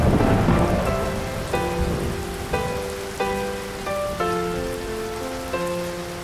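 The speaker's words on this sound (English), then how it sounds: "The rain's coming down harder." Cartoon rain effect, a loud, steady wash of falling rain with soft rumbles, joined by bright plucked musical notes entering in regular steps.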